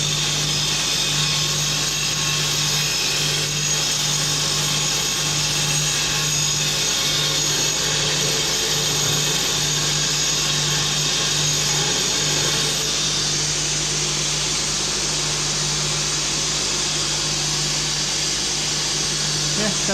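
A finer grinding wheel smoothing a Porsche 911 part gives a continuous loud whirring grind with a steady hum, unbroken for the full stretch.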